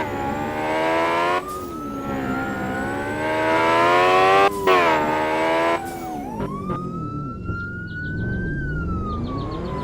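Police car in the Roblox video game: a continuous, loud engine drone with shifting pitch and a wailing siren, and the tone drops as the car brakes and slows.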